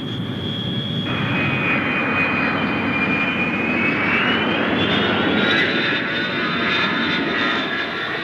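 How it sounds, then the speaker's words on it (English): A CF-100 jet fighter roars overhead, a loud continuous engine drone with a high whine that rises in pitch as the plane passes, filling the whole stretch. "A reliable jet fighter checked out with military precision every time it left the ground."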